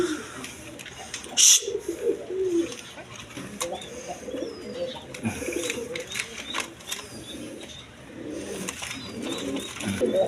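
A pair of Kalpit pigeons, male and female, coo in soft repeated low phrases at close range, with a brief sharper chirp early on and faint background noise in a pigeon seller's loft.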